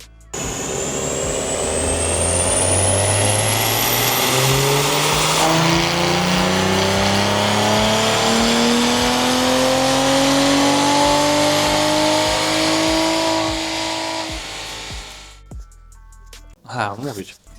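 Maserati Ghibli strapped down on a dynamometer, its engine revving hard through the gears with rising, sweeping tones for about fourteen seconds, then cutting off abruptly into near silence before a brief final blip.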